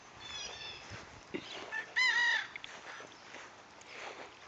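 Backyard chickens and chicks in a garden, with faint clucks and one brief rooster-like crow in the middle, heard from some distance over low outdoor background.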